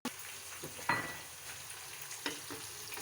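Tomatoes, salt, chilli, turmeric and spices being fried for vegetable rice give a soft, fairly quiet sizzle, with a few light stirring knocks and scrapes scattered through it.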